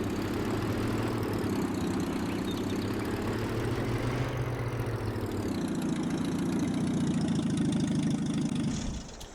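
A tractor engine idles steadily in Farming Simulator 22, a continuous low mechanical drone that stays loud and even, with a slight shift in tone midway and no talking.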